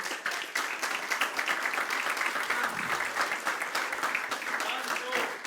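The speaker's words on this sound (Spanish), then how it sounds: "Démosle un fuerte aplauso a ese Dios." A church congregation breaking into strong, continuous applause, dense clapping from many hands at a steady level with crowd voices mixed in.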